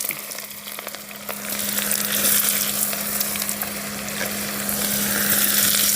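Onions frying in oil with fenugreek seeds, cumin and green chillies for a fish curry, a loud, dense, steady sizzle that builds slightly, with a constant low hum behind it and no talk.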